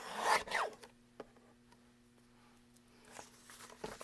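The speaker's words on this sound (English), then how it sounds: "I'm going to bring in my other little trimmer. Just want to cut that edge off." A small paper trimmer slices the edge off a piece of card with a quick rasping scrape near the start. Fainter sliding and tapping follow, close and quiet.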